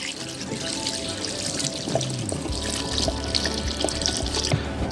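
Cooking liquid is poured back over meat for homemade keto dog food, a steady close splashing stream whose pitch drops as the container fills, with small drips at the end.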